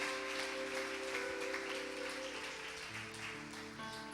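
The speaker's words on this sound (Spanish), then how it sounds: "Dale un aplauso fuerte." A church congregation claps in soft, steady applause with a faint sustained organ or keyboard tone underneath, the clapping heard from a distance and tapering slightly.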